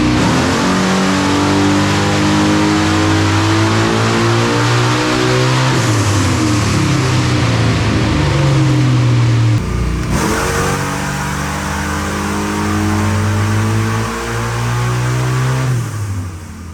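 A car with an L89 engine revs hard on a dyno, roaring loud and near. Its pitch climbs steadily through the pull, dips briefly at a shift, then climbs again to high RPM.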